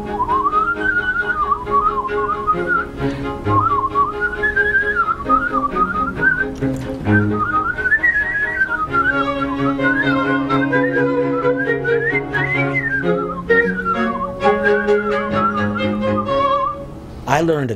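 Palatal whistling by a person, a bright wavering melody carried over musical accompaniment for the whole stretch, close and prominent with no talk over it.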